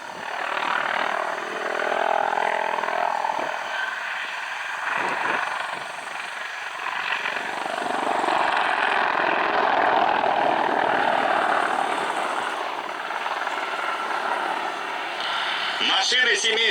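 Mi-28 military attack helicopter flying at the MAKS-2021 air show: a loud, steady roar of rotor and turbine noise that swells and fades slightly as it passes, ending in a brief burst of sharper sounds.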